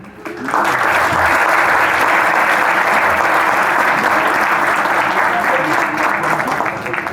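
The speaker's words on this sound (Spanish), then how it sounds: "Recibámoslos con un fuerte aplauso" A large audience bursts into loud, sustained applause to welcome speakers at a corporate event, the thick clapping rising quickly and holding steady throughout.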